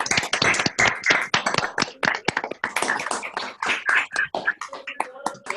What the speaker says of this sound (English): give our very own Sandip Bhai a huge round of applause